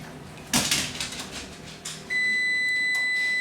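An electric oven signals it has finished preheating with a loud, steady electronic beep tone that starts partway through and holds, following a few nearby clattering kitchen knocks; no talking.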